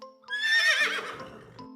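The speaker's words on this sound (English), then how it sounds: "Well, a horse, of course." A single loud horse whinny from a Stanley: Spring Fever children's video game, a rising, quavering neigh lasting about a second, set over soft background game music.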